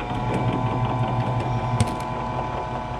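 An electric 4-to-8 frame stainless steel honey extractor runs steadily, giving a continuous mechanical whir with rattling vibration and one brief knock partway through.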